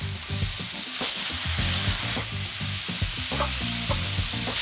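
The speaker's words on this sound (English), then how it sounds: "So we're just trying to soften the onions just a little bit." Onions and garlic frying in a pan make a loud, steady hiss of sizzling oil with frequent stirring clatter. The sound is near and continuous, with a brighter burst of spitting partway through.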